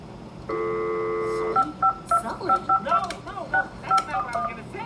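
A telephone emits a long steady dial tone, then a quick run of touch-tone dialing beeps in an uneven rhythm, close and clear, with faint voices underneath.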